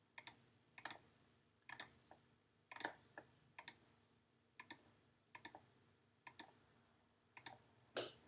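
Computer mouse clicks while a selection is made in Photoshop: quiet, close single and double clicks spaced irregularly over a low background hum, with no voices.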